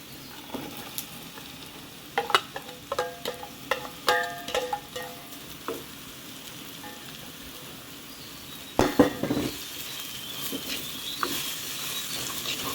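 Potato sautés for a spicy Jaffna-style cutlet, a continuous sizzle broken by several scraping, clattering stirs against the pan, with a louder burst of stirring later on.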